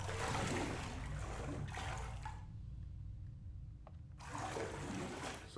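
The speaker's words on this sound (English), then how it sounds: "So why is ink making this noise when I go through it?" In Bendy and the Ink Machine, a character wades through ink, setting off a loud, close, continuous watery sloshing with a short lull midway before the splashing picks up again.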